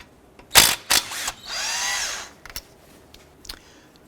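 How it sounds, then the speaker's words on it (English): An impact or power tool with a 13mm socket spins out brake caliper bolts on a 2004-2009 Dodge Durango front brake, heard as several short loud bursts followed by a longer sustained whir, with brief clicks after. "Using a 13mm socket, we're going to go ahead and remove this bolt here and this bolt here."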